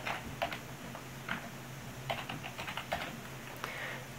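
Fingers type a password on a keyboard while setting up TeamViewer unattended access on an iPad: a run of light, irregular clicking keystrokes, close by and fairly quiet, with no talking.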